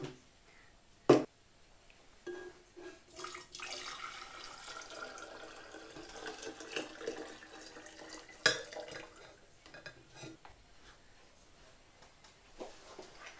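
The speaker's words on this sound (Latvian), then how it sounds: "Šo ūdeni mēs tagad ielēsim šitajā sulfātā." Heated distilled water poured into potassium alum sulfate in a container, a quiet running splash with clinks of glass or a spoon, close and faint, no talking.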